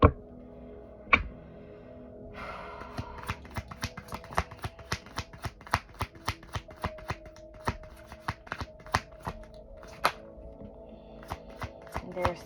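Tarot cards are shuffled by hand in a quiet room, giving a rapid, regular run of crisp slaps and flicks, with a few louder snaps as cards are drawn.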